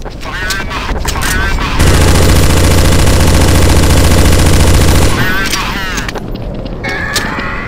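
Rapid, continuous automatic gunfire in Counter-Strike: Source zombie escape, loud and close, a sustained burst lasting several seconds, with scattered shots and game noise around it.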